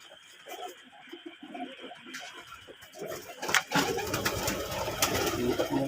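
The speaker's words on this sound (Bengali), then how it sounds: "এই যে কবুতরের বাচ্চা" Desi pigeons cooing softly nearby in a loft with eggs and chicks, low repeated coos at first, then a louder rustling, fluttering wash of activity.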